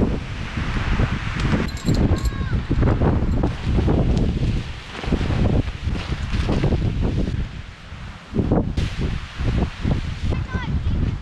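Strong wind on an Alaska island roars in gusts, buffeting the microphone loudly and continuously, with brief faint voices now and then.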